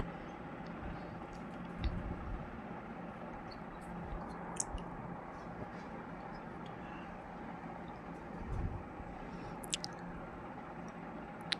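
Soft wet squishing and squelching of a thick fenugreek paste being mixed by hand, close and intermittent, over a faint steady background hum.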